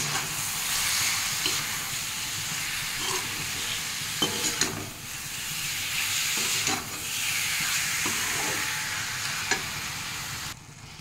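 Lote fish (Bombay duck) fries with spices in a pan, Bengali style: a steady loud sizzle and hiss fill the whole stretch, with occasional soft scrapes of stirring.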